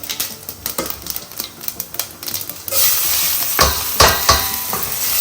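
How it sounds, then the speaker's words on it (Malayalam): Rice fries in ghee in a pot. Quick clicking stirs with a spoon come first, then a louder continuous sizzle takes over, with a few sharp scraping stirs near the end. "ആ നെയ്യിൽ വറുത്തോ"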